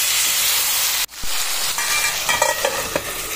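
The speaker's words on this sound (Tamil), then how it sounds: "இப்போ கத்திரிக்காயை சேர்த்துக்கலாம்." Brinjal hits a hot frying pan after a sharp break, and a loud hiss swells up and settles into a steady sizzle while it is stirred with a few scraping clinks.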